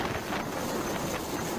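Strong wind blowing at sea makes a steady, loud broadband roar that buffets the microphone throughout, with no voices.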